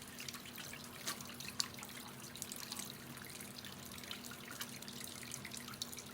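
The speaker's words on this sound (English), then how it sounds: "So the first thing you're going to do, wet your hands," Hands being washed under a running tap in a cosmetology and barbering setting: a faint, steady trickle and patter of water with small splashes throughout, alone and without talk.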